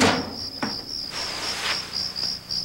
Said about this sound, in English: Crickets are trying to drown out the soundtrack.